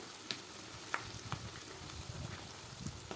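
Curry leaves fry in hot oil with a steady, dense sizzle throughout. A few faint pops and clicks break through it, and no voice is heard.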